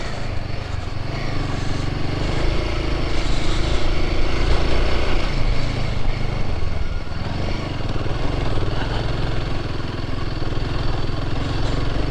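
A motorcycle rides a muddy, rutted mountain road through Nepal's Sinja Valley toward Rara Lake, its engine droning steadily and close for the whole stretch, rising slightly midway with no one speaking.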